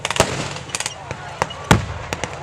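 A German 88 gun firing at a battle re-enactment, sharp distant reports cracking out one after another amid scattered gunfire and a faint voice.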